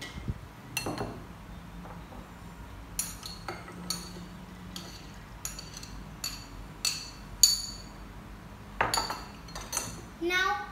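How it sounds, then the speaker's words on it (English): Jelly and ice dropped into a cup for homemade milk tea: a string of sharp clinks and clatters, some in quick bursts, fairly close and clear over quiet background. "Then you put jelly and ice into the cup."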